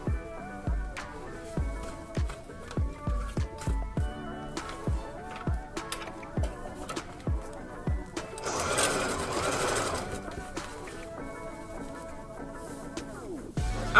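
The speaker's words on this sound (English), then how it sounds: "So I'm gonna sew across here." A sewing machine stitches across the bottom of an upcycled bag with a pocket, at first in short rhythmic chugging pulses, then in one longer, faster continuous run near the end, close and clear.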